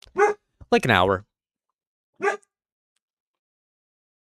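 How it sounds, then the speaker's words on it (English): A pet dog barks in a room behind a person, a few short sharp barks that come and go, mixed in with brief spoken words. "You can hear my dog barking."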